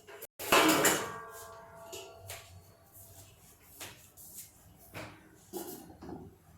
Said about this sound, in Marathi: आता मी त्याच्यावर झाकण ठेवते आहे